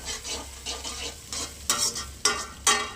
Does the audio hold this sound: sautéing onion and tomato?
yes